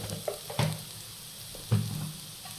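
Onions softening with turmeric in a pan for crisp potato bonda, a soft steady sizzle with two sharper stirring clatters a second apart, close and fairly quiet, no talk.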